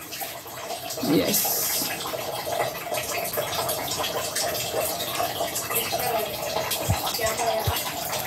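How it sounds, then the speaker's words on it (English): Rice washed in a pot under running tap water in a soup kitchen, a steady close splashing and trickle of water with occasional drips, while people talk over it. "So, rice I'm gonna wash, catching water in it."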